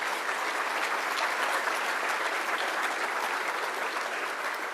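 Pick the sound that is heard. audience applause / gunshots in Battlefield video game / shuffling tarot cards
audience applause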